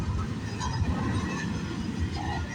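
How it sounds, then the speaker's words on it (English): Low, steady rumble of a CPKC 112 freight train rolling past on a rainy morning, a continuous rail roar with faint clanks over the top, heard at moderate distance. "Okay, symbol on this train is CPKC 112"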